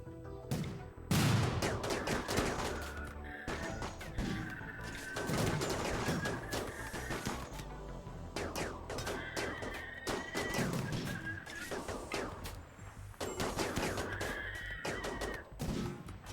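Gunshots fired at animals ring out in repeated sharp cracks and short volleys, spaced irregularly over sixteen seconds at moderate distance, with tonal game sounds between bursts.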